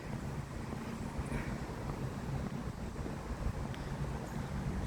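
Steady wind blowing at a park by Dows Lake, a constant broad rush with microphone buffeting that stays loud and even throughout, with no voices.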